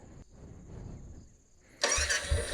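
A motorcycle engine is being started during a bike repair with a loose connection and no ignition, the starter cranking softly at first before a louder burst of engine noise in the last second.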